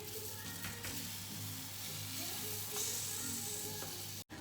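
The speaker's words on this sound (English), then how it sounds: "So I'm gonna go ahead and place my next 2 pancakes." Keto blueberry pancakes sizzling on a hot pan, a soft steady frying hiss that stays even throughout with no talking.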